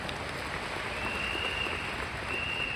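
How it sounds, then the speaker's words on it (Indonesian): A seminar audience at a leadership training event in Jakarta applauds in a steady, dense wash of clapping that holds at an even level throughout. "Kita beri tepuk tangan meriah untuk kita semuanya."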